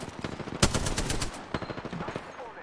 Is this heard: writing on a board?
no